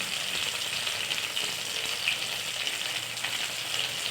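Spicy cheesy chicken cubes fry in a pan, giving a steady, even sizzle of hot oil that holds at a moderate level throughout, close up and with no voices.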